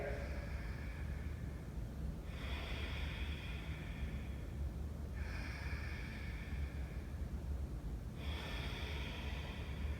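Slow, deep breaths during a yoga exercise, long airy inhales and exhales repeating about every three seconds over a constant low background hiss, close and fairly quiet.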